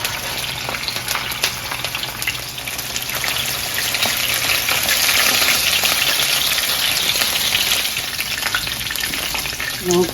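Honey glazed salmon frying in hot oil in a pan, a loud, dense, crackling sizzle that runs steadily throughout and swells slightly midway, heard close with no talking.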